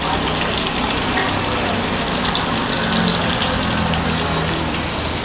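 Dal-based Bombay mixture batter frying in hot oil, a steady dense crackle and bubbling hiss that carries on close and even without a break.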